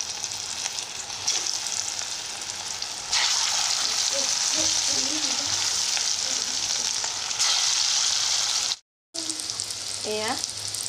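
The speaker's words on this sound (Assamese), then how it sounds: "এয়া মোৰ অলৰেডি ফ্ৰাই হৈ গ'ল ধুনীয়াকৈ।" Stuffed bitter gourd sizzling steadily in hot oil, a continuous bright frying hiss with occasional stirring and spoon clinks, close up and without talk.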